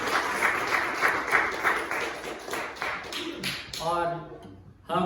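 A Sunday service congregation claps together in church, with uneven bursts of applause and taps, followed by a voice speaking near the end.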